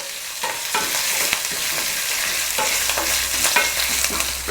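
Dried red chillies sizzle in a hot pan while a utensil scrapes and stirs them in repeated strokes, close and steady, while tempering for temple-style curd rice.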